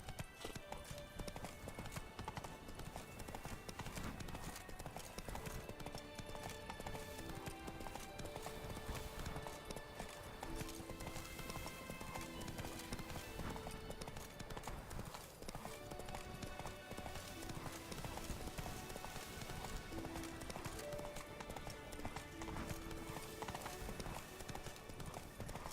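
Horse named Roach clip-clopping steadily while ridden, hooves beating a continuous rhythm close by over a dense, busy background of music and sound for the whole stretch.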